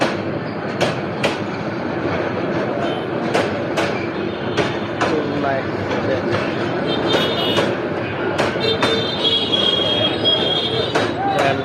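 The Sonar Bangla Express, bound for Dhaka, rumbles loud and close past a rail level crossing. Wheels clatter in a steady rhythm while sharp metallic squeals cut in repeatedly over about twelve seconds.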